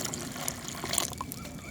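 Water is poured into a biochar fertilizer mix, giving a faint, close trickling and splashing with soft irregular liquid sounds over a short stretch, with no talking.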